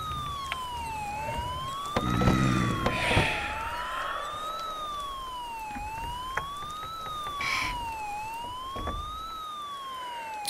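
A toy car's siren wails in the horror game Sweet Dreams, a steady rising-and-falling electronic sweep that repeats through the clip, with scattered clicks and thumps around it.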